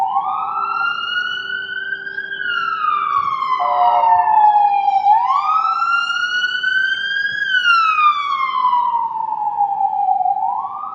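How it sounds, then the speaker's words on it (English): A police car siren wails on a Chicago street near Dearborn, its pitch rising and falling in long, loud sweeps over about eleven seconds. It sounds fairly close, over a faint street hum. "I think it's a police car coming up."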